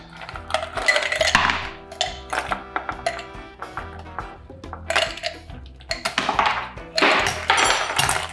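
Ice cubes get handled for a fizz cocktail behind a bar, a steady run of close clinks, taps and hard knocks against glass and metal tools, with no voices.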